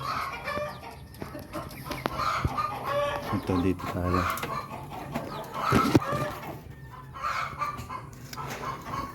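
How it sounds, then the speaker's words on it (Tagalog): Farm chickens cluck and chatter steadily at close range, a busy flock calling over one another while a person talks nearby. "yan po ang aming mga manok"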